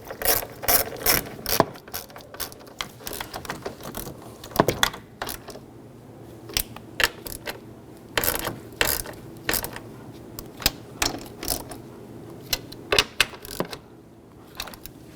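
A ratchet clicks in short repeated bursts while tow mirror bolts are snugged down on a 2011-2018 Ram 1500, with sharp metallic pawl clatter close by and brief pauses between strokes.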